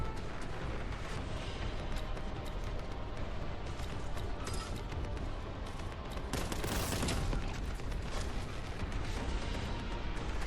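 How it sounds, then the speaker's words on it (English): Dense, continuous enemy gunfire and explosive booms from the Warhammer 40K: Boltgun shooter game fill the whole stretch, a loud and chaotic barrage with a heavier burst of blasts near the middle. "because of the various bad guys shooting at me"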